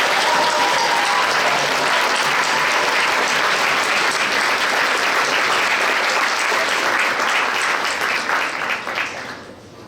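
Loud, sustained applause from an audience at a regional science fair final in Québec, greeting a prize winner, dense and steady before fading at the end.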